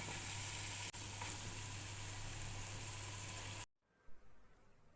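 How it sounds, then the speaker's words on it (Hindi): Okra stir-fries in a pan with a loud, steady, close sizzling hiss that cuts off abruptly, leaving faint clatter and quiet. "अब इनको मिक्स कर लेंगे और थोड़ी देर भून ही लेंगे।"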